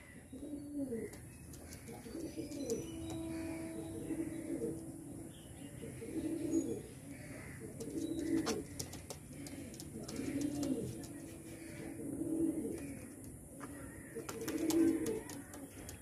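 Pigeons coo repeatedly in a low, rhythmic pattern, several soft throaty calls in a row, fairly quiet and close with faint chirps around them; someone speaks briefly.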